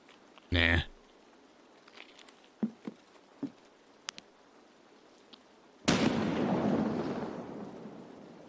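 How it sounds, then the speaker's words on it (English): A grenade in a video game goes off with a sudden loud blast followed by a long, fading rumble, after a burst of noise and scattered quiet clicks and taps. "Someone just threw a nade up there."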